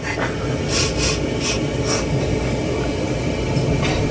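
Steady low rumble of a moving passenger train with rhythmic rattling and a few squeaky clacks, heard from inside a carriage, no talking.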